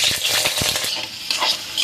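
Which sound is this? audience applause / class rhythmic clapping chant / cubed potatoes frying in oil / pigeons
cubed potatoes frying in oil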